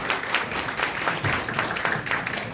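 Members at a Korean political party rally applaud after appointment certificates are handed out. Dense, continuous clapping fills the room at moderate volume, with a faint murmur underneath.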